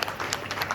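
Brief burst of audience clapping at a wedding, a dense patter of many hands fairly close, lasting under a second.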